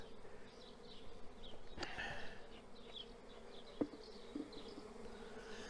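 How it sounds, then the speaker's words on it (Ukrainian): A steady, close buzzing of many honeybees droning together in a hive, with a couple of brief knocks partway through. "Отака кількість бджоли тут, в тому руйкові."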